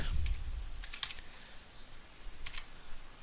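Typing code on a computer keyboard produces a few soft, close key clicks in short bursts over a quiet background hum.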